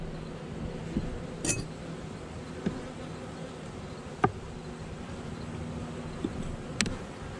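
Honey bees hum around an open hive during an inspection. The buzzing is a faint, steady drone, broken by a few soft clicks and clinks of frames being handled.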